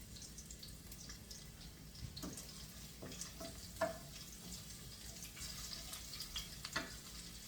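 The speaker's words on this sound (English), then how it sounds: "What you're actually doing is cooking the garlic flavor into the oil here." Garlic frying in olive oil in a pan, a quiet, steady sizzle with small crackles and pops scattered throughout, heard alone without talk.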